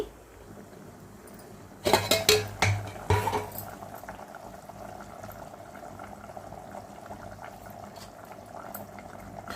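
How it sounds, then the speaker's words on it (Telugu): Eggs dropped one after another into a pot of boiling tomato tamarind gravy, a cluster of sharp splashes and clinks near the two-second mark, then a steady low bubbling simmer continuing underneath. "ఇప్పుడు మరుగుతున్న పులుసులోకి ఈ కోడిగుడ్లు వేసేసుకుందామండి"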